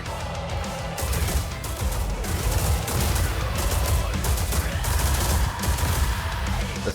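Gunfire from the rhythm shooter game Metal: Hellsinger, with loud bursts of shots, some fired in quick doubles and triples, over dense, continuous game audio.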